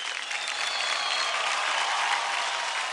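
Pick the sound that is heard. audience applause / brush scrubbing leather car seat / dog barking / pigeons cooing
audience applause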